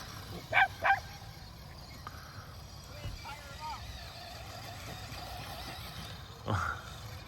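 A dog barking outdoors, two quick barks near the start and another later, moderately distant under a low background rumble with a person talking.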